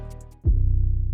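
Light ticking gives way to a single deep 808 bass hit from the Sublab plugin in a drill beat, dropping in pitch, then sustaining as a low humming tone.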